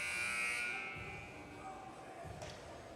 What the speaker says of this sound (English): And buzzer goes. That'll conclude the second period.